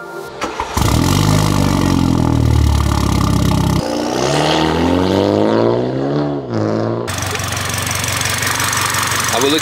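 A race car engine revving loudly and close, with sustained high-pitched roars, a drop in pitch partway through, then a harsher rasping rev, the engine dominating throughout.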